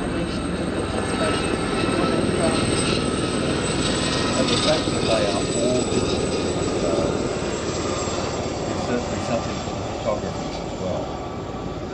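A helicopter flying at an air festival, a steady broad engine and rotor roar sustained throughout, with a voice talking over it.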